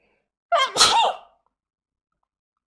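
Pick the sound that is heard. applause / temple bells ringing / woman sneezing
woman sneezing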